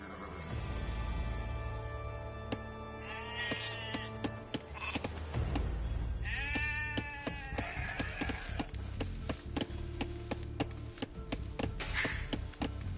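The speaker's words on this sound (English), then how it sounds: "select the sheep by holding the right directional button and then move them to the town center" Sheep bleat in the Age of Empires 2 video game, several short wavering calls rising over dense game sound effects, music and clicks, with no one talking.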